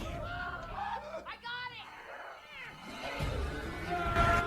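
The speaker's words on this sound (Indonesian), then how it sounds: "Kucing yang telah berubah menjadi zombie menyerang mereka." A zombie cat in a film gives several drawn-out, wavering meows and yowls, close and clear, amid background movie sounds and muttered voices.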